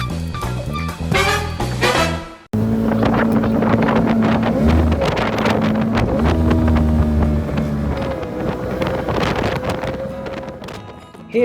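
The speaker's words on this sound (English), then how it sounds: "the story of my rib boat" Outboard motor of an inflatable RIB boat running steadily, loud and close, with wind buffeting the microphone and a brief cut partway through.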